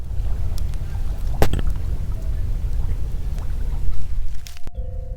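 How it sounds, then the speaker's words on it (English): A river rushes close by, a steady, loud broadband wash with a few splashes, ending abruptly in a brief electronic tone. "guys have got to hear this river"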